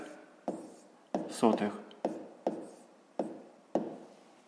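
A pen writes a decimal answer by hand on paper, giving a run of short, close strokes and taps in a steady rhythm, with a brief murmur of speech partway through.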